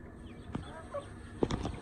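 Chickens eating grain give a few soft clucks amid quiet background noise, with short pecking sounds close by.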